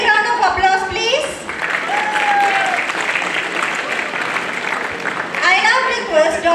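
Enthusiastic applause from an audience at a college graduation day ceremony, a sustained burst of clapping with a presenter speaking over the start and end.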